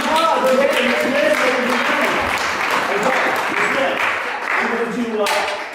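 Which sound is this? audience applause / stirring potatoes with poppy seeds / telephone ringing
audience applause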